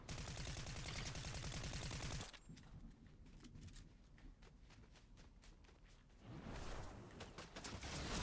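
Gunfire in the video game Fortnite: a dense rapid-fire burst at first, then scattered sharp shots and clatter, with a renewed loud stretch near the end.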